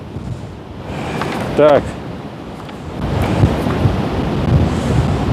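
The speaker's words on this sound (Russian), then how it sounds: "ветер такой сильный вообще" Strong wind buffets an outdoor microphone, a rough low rumble that swells and gusts louder in the second half, with someone speaking briefly over it.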